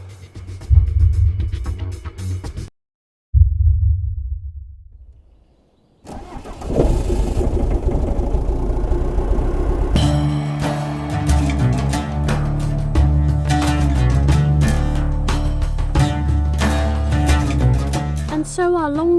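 Old £1000 van engine cranking and catching, cutting out briefly, then starting again and settling into a loud steady running drone as a long drive begins, with music joining over the engine later on.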